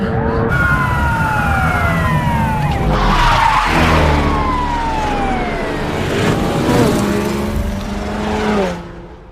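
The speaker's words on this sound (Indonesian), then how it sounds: "tiba-tiba Tony melakukan pengereman mendadak dan berbelok di persimpangan" A Ducati motorcycle brakes suddenly during a film police chase: a loud tyre skid and rushing engine noise under wailing, sweeping police sirens that carry on steadily throughout.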